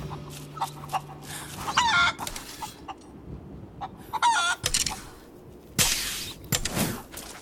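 Chickens in the game Tomb Raider cluck and squawk in several close bursts, with a short crow among them, over ambient game noise.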